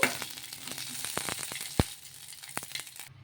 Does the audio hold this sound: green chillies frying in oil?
yes